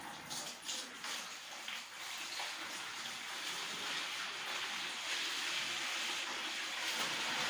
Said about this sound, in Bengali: আমার ফুটন্ত গরম জল কিন্তু রেডি। এখন আমি এই গামলার মধ্যে দিয়ে দিচ্ছি।